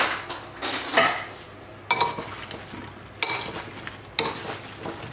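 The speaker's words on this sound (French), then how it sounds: "On a bien mélangé les pommes avec le sucre." Chopped apples are tossed with sugar and cardamom in a large mixing bowl, giving several separate bursts of scraping, clinking and rattling against the bowl with quiet pauses between them and no voices.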